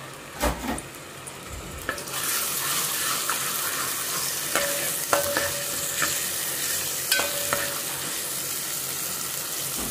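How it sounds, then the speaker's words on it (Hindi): Ginger garlic paste and ground onion frying in hot oil in a kadai, a steady close sizzle with occasional spoon scrapes and stirring clatter, starting after a few brief knocks. "इसके अंदर मैंने डाल दिया तेल इसके अंदर डाल देंगे अदरक लहसुन का पेस्ट"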